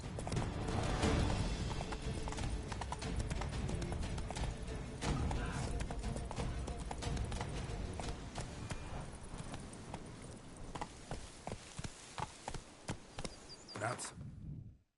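Geralt's horse Roach galloping in The Witcher 3: Blood and Wine: a rapid, continuous run of hoofbeats that slows to separate clip-clops near the end, with someone talking to the horse over it.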